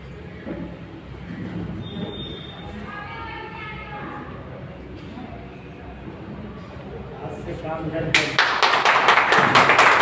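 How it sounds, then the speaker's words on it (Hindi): Talk in a seminar hall in Chhattisgarh gives way, near the end, to a sudden burst of loud audience clapping that continues to the close. "जोरदार ताली की गड़गड़ाहट से हमारे सभी लोगों का सम्मान होना चाहिए।"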